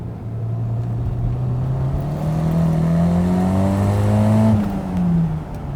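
A Toyota SW20 MR2 Turbo pulls hard in third gear, its engine note climbing steadily and loudly from inside the car before a brief dip as the throttle eases, with no talking.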